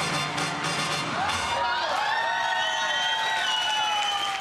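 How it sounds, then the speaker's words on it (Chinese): An audience claps and cheers after dance performances at an evening gala: dense, steady applause from a crowd, with whoops and raised voices over it. "赢得阵阵的掌声。"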